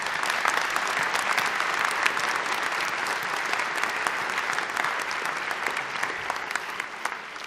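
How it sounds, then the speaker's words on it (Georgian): Sustained applause from a large commencement audience at a 2023 graduation ceremony in Georgia, honoring the graduates' parents; dense, steady clapping fills the whole stretch at an even level with no pause. "მინდა გთხოვოთ ყველას აპლოდისმენტებით გამოხატოთ მათ მიმართ ჩვენი"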